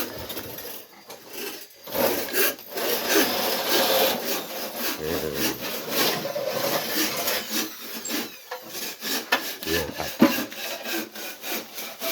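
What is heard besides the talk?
scraping bamboo poles smooth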